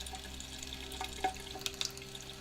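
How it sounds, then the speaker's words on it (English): Water dripping from the drainage hole of a watered succulent pot indoors, a slow scatter of small distinct drips over a faint background hum. "See how it's dripping?"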